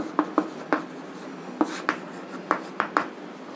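Chalk tapping and scraping on a classroom board during a chemistry lecture on cubic crystals, heard as about ten short, crisp strokes in irregular bursts, close and fairly clear over a quiet room.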